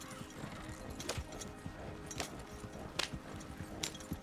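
A horse gallops in the video game Red Dead Online with a fast, rhythmic clip-clop of hooves and sharp jangling accents, over a low rumble of game background.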